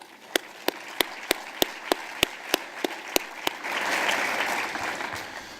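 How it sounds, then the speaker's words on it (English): Applause for sponsors at a downtown civic gathering, starting with a single person's loud, evenly spaced claps close by, then joined by a broad wash of crowd applause that swells in the second half. "I think we should give those people a round of applause too."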